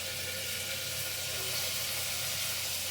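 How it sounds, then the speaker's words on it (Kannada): Potatoes and beans frying in hot oil for vegetable pulao, giving a steady, close sizzle and hiss that lasts throughout without a break. "ಆಲೂಗೆಡ್ಡೆ, ಬೀನ್ಸ್ ಇವೆಲ್ಲನೂ ಕೂಡ ಫ್ರೈ ಮಾಡುವ"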